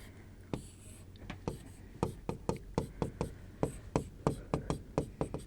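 Pen strokes scratching across paper while drawing a cyclohexane ring structure, a steady run of short, close, crisp taps and scrapes in quick rhythm, with no talking.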